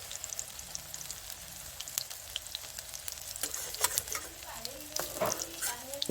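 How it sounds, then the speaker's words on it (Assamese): Pumpkin leaf and lentil fritters frying slowly in a pan, a soft crackling sizzle with occasional stirring clicks and scrapes that grows a little busier toward the end. "এনেদৰে মই লাহে লাহে কৰি পুৰকিটা ভাজি আছোঁ"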